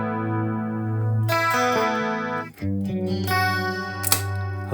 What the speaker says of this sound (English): And this will be the chorus.